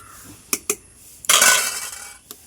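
Cooked rice served from a pot with metal utensils: two sharp clinks, then a longer scraping, rustling scoop lasting under a second, and a final light clink, all close and alone.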